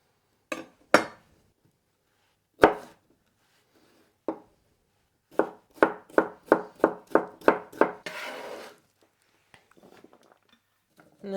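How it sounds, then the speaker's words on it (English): A knife dicing vegetables for a couscous salad on a board, isolated sharp chops at first, then a quick run of about eight evenly spaced cuts, followed by a brief scrape and faint taps in a quiet room. "the other half I'll cut into small dices for the couscous salad"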